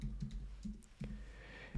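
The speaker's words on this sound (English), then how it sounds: "I'm just going to type in test 1, test 2" Quiet, close keystrokes tap on a computer keyboard in a few irregular clicks over a faint steady hum, with no voices.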